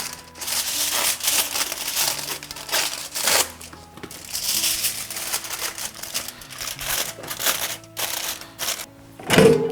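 Aluminum foil being crinkled and folded around ginger-and-scallion marinated food before air frying, giving steady close crackling and crumpling with a few soft thunks, no talking.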